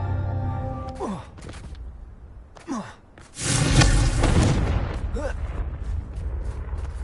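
A Confringo fire spell from Hogwarts Legacy bursts into a loud, roaring blast lasting a couple of seconds, then fades into a rumbling tail. Brief spoken incantations come just before it.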